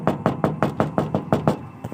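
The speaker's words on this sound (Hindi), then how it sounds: "मुझे खिड़की के कांच के खटखटाने की आवाज़ आने लगी।" Eight sharp knocks on window glass come in an even, steady rhythm, close and fairly loud, with nothing else heard between them.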